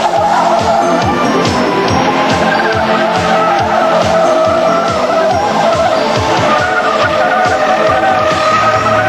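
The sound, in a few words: 1992 GMC Typhoon truck tires squealing on skid pad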